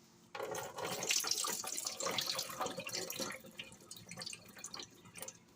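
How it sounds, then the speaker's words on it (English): Running tap water splashing over fresh mushrooms as they are rinsed in a kitchen sink, a steady close gush with small irregular splashes and drips, no voices. "Rinse them off with water."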